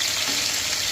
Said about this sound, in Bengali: লবণ আর লেবুর রস দিয়ে মাখিয়ে রাখছিলাম, ওইটা ভাজার জন্য দিলাম।